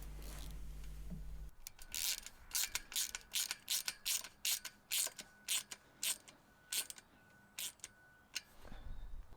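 A ratchet tool tightens 10mm nuts on bolts, giving a close series of about fifteen crisp ratcheting clicks in quick, slightly uneven rhythm after a short low hum.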